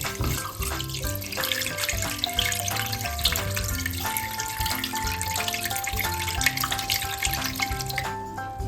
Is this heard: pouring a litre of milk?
yes